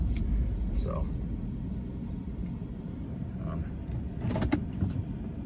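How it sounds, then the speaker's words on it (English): The engine of a 2006 Ram 1500 Mega Cab truck is heard from inside the cab as a steady, low rumble while it accelerates, with a faint voice briefly audible over it. "I can actually get on it a little bit and the truck goes"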